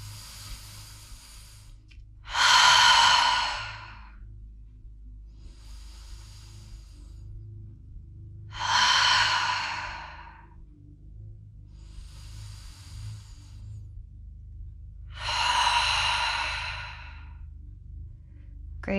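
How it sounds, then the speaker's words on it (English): Three slow, deep breaths during a bodyweight workout cool-down, each a soft airy inhale through the nose followed by a louder, longer rushing exhale through the mouth, evenly spaced and close, over a faint low background hum. "Let's take 3 deep breaths in through the nose, out through the mouth"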